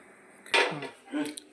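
A metal tawa pan is set down on a stove, making a sharp close clank followed by a softer second scrape and clink, brief and isolated.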